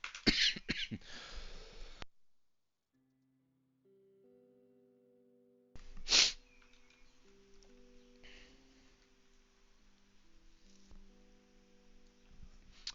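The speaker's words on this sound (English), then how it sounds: "Apologies for that coughing fit" A person coughs in a short burst of loud, harsh coughs near the mic, then a single sharp cough a few seconds later, with quiet tonal background sound in between.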